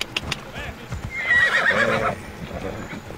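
A horse in the Assassin's Creed Odyssey video game lets out a clear, close whinny, with hoof clip-clops and game noise around it.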